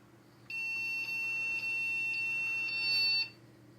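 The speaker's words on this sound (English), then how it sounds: "If you're wondering why that's beeping, I'm just tapping away on the keyboard here" A computer with an Intel DX58SO2 motherboard and X5675 processor gives off a continuous high electronic beep tone as keys are tapped to reach the BIOS. The beep is moderately loud and close, with small dips where keystrokes interrupt it, and stops abruptly after about three seconds.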